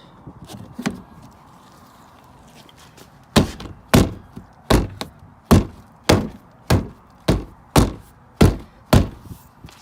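Repeated hard thuds as a rear bumper on a Cadillac STS is banged into place by hand, a few scattered knocks followed by a steady run of about ten loud, evenly spaced blows, close by with no talking.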